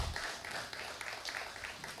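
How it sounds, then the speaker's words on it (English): Audience applause at a church-style launch event for a healing conversations program, a steady patter of many hands clapping at moderate volume for about two seconds with no speech over it. "Give her a round of applause,"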